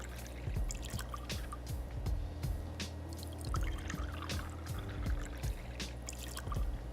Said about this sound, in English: we're just going to take 2 ounces of bourbon and pour it in there